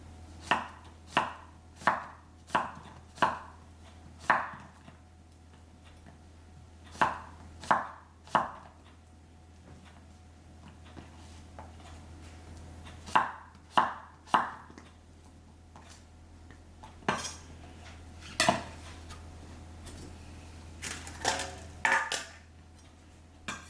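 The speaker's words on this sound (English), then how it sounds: "We can hold these two pieces together and just start chopping into it." A knife chops yellow squash on a cutting board in quick bursts of sharp, close knocks, with pauses and a few scattered single cuts later.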